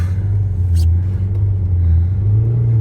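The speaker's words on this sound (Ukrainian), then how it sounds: "Треба попідгазовувати, допомогти йому прогрітися." Renault Megane 1.5 diesel from 2017 idling during warm-up, a steady low engine rumble with a slight lift in revs toward the end, close and continuous, with a faint voice briefly over it.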